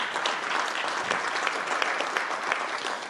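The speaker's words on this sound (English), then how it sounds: "That's worth clapping for." Sustained audience applause at a Virginia House Republican policy speech, a dense, steady clatter of many hands clapping throughout, fairly loud and without talk.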